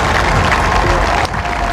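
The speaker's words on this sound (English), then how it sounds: "Applause and cheers broke out as the hearse made its way through the gates of the palace" Crowds outside Buckingham Palace applaud and cheer as Queen Elizabeth II's hearse passes through the palace gates, a loud, dense roar of clapping and voices that dips briefly near the end.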